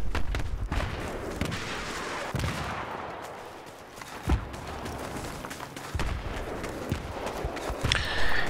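Gunfire in the video game Battlefield 3, scattered shots and sharp cracks over a rumbling battlefield bed, some near and some distant, with occasional louder hits.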